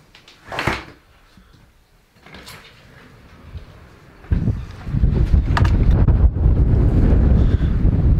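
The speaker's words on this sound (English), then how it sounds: "It's kind of windy outside" Wind buffets the microphone outdoors, starting with faint gusts and swelling into a loud, continuous rumbling roar for the last few seconds.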